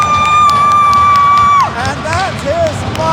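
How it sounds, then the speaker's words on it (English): Spectators at a youth hockey game cheer and whoop after a goal, one loud sustained high shout at first, then mixed crowd cheering and yelling nearby, with a rink horn-like tone fading out. "that's his mom with the biggest cheer of the night"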